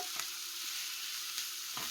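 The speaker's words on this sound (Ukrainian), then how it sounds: "Підсмажимо 2-3 хвилинки" Steady broadband sizzle of vegetables frying in oil in a pan, continuous and close, with a few soft clinks of a utensil stirring.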